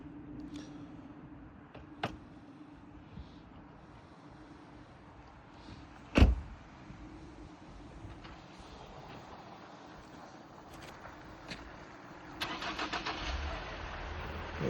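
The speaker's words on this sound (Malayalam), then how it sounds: "അങ്ങനെ നമ്മുടെ വണ്ടി സ്റ്റാർട്ടായിരിക്കുകയാണ്." A van parked in deep snow during a Canadian winter starts up: a sharp crank burst, then a steady engine running near and moderately loud, with a rising rev toward the end and no voices.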